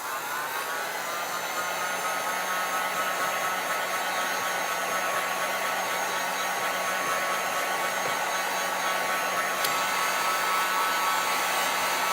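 Hair dryer blowing steadily on a chalk transfer, a constant close whirring rush that holds at an even level throughout with no talking.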